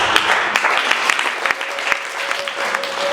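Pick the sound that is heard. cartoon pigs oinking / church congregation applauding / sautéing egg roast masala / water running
church congregation applauding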